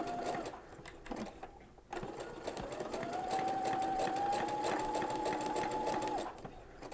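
Sewing machine fitted with a fringe looper foot stitching slow curves, a steady motor whine with rapid needle chatter that pauses briefly, then resumes in a longer continuous run, close and moderately quiet.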